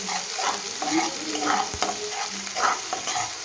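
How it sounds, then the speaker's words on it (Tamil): Onions sauté in oil and ghee with cinnamon, cloves and star anise for pudina chicken, an even, close sizzle broken by repeated stirring swishes and an occasional knock of the spoon. "ஆனியன் ஆட் பண்ணி நல்லா வதக்கிக்கோங்க ஃப்ரெண்ட்ஸ்."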